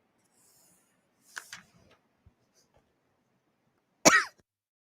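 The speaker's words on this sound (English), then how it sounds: "Here comes the cough, so hold on tight." Two separate coughs, a softer one first and then a sharp, loud cough a few seconds later, with quiet rustling in between.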